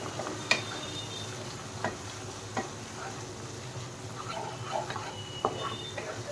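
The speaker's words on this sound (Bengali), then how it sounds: "এইগুলো সব ভালো করে এর সাথে মিশিয়ে দেব।" Chicken tandoori masala spices are stirred into oil in a pan, with a low sizzle under sharp, irregular clicks and taps of the spoon against the pan.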